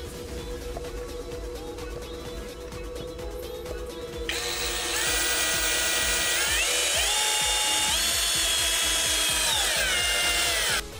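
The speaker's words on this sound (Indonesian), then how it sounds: "mode drill biasa atau mode pengeboran" A brushless APR AP34+ 13mm cordless drill in standard drill mode whirs steadily, then spins up to a higher, louder whine that shifts pitch as it bores, close by with no talking.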